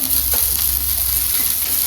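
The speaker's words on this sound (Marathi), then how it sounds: "तर आता आपण भाजून घेणार आहे मिरच्या" Green chillies roasting in a pan give a loud, continuous close sizzle with light stirring scrapes and no talking.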